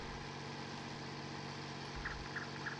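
An Ursus tractor engine labours steadily while pulling a plough through a furrow during heavy ploughing. The drone is low and fairly faint, holding a constant note across the whole stretch.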